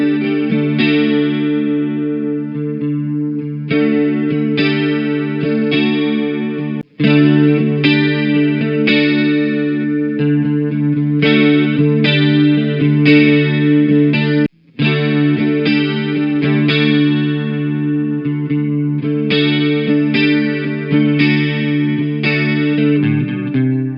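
Electric guitar played through a Boss CE-3 chorus pedal, short strummed and picked chord passages with shimmering, warbling modulation, loud and clear, separated by brief gaps between comparison clips.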